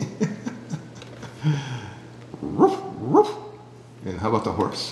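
Toy dog bark sounds from an electronic children's toy, a few short synthetic barks in a row at close range, with an adult voice and a small child's babble around them.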